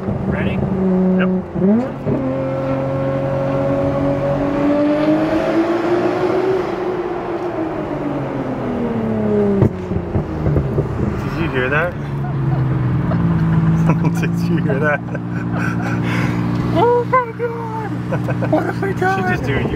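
Midnight Purple V-Spec R33 Skyline GTR with a Tomei titanium exhaust accelerating hard through a tunnel, engine note rising steadily and then shifting, loud and close, with people talking over it.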